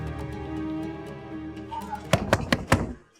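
Four sharp, hollow knocks land on a house door in quick, uneven succession, close and loud, following a sustained musical drone from a crime drama scene.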